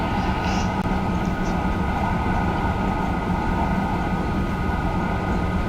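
An Alstom-built TGV 200 high-speed train runs at speed, giving a steady, loud rumble and rushing drone from inside the cab that stays unbroken throughout.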